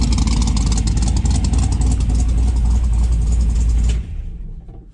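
A Dodge Dart engine idles loudly and close up, a heavy steady rumble that holds for about four seconds and then drops off sharply into quieter fading noise.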